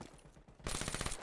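Rapid automatic gunfire from a first-person shooter game bursts loud and dense in the second half, preceded by softer rattling shots.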